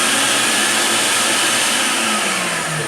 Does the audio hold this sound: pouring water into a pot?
no